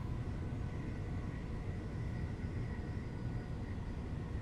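Airplane passing overhead, a steady distant broadband rumble and roar heard from aboard a Class 387 train, continuous and fairly faint throughout with no talk.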